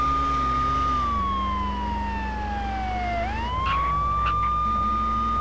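A police siren in GTA San Andreas wails steadily, dips low in pitch, then sweeps back up, loud and continuous over a low engine hum.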